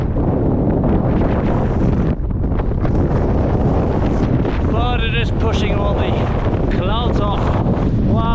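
Strong wind on the volcanic Tongariro Alpine Crossing roars and buffets the microphone loudly and steadily, with a voice briefly rising over the gusts.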